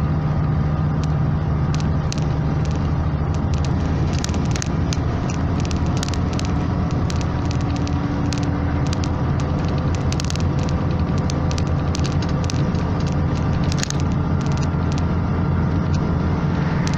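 A car engine drones steadily in seventh gear while descending the Caracoles switchback road in the Andes, a loud continuous hum with rumble and crackle throughout, no voices.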